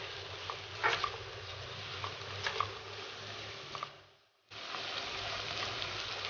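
Onions frying in oil in a pan until translucent, for a Turkish semirsek börek filling: a soft, even sizzle holds steady with a few faint clicks and spatters, dropping out briefly near the end before resuming.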